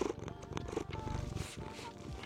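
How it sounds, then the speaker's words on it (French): Close, steady rumbling purr from a cat continues throughout, soft but even and rhythmic, with no talking over it. "Oui, mon petit chat."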